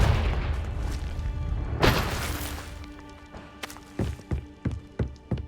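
A Confringo blast spell in a Hogwarts wizarding video game: a heavy booming burst with a crackling rush near the start, then a separate bright impact at about two seconds, followed by several sharp thuds toward the end.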